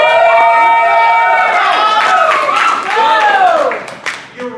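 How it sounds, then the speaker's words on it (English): An audience at an anime convention game show cheers, whoops and claps in a big, sustained wave that swells and then fades toward the end, with the noise of the crowded hall around it. "This is where it's going to get a little bit more intense here, so we really want to cheer them on, guys."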